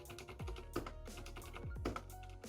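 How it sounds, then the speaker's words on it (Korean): Typing on a Varmilo keyboard with silent red switches, including its low-toned spacebar, a soft, quick patter of muffled keystrokes in an uneven rhythm, quiet and close. "바밀로의 스페이스바는 낮은 톤의 소리라서 듣기 좋습니다"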